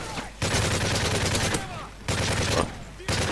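Bursts of rapid video game gunfire in a bot match, three dense volleys separated by short pauses, loud and close, with faint talk around them.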